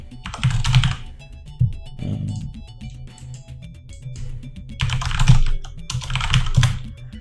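Fast, uneven typing on a computer keyboard, close and fairly loud, with dense clusters of key clicks and brief pauses, no voices.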